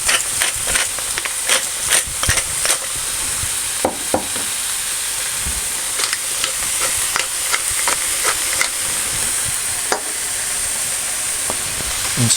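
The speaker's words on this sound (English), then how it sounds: "Cooking the mushrooms on a high heat." Mushrooms sizzling over high heat in a pan while being stirred, a constant bright hiss broken by sharp scraping and clattering knocks from the stirring, close and without talk.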